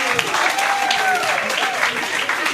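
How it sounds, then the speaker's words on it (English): Applause from a seated audience at a maternal health summit on ending obstetric fistula, a steady close wash of clapping with some voices mixed in throughout. "Clap for them, please."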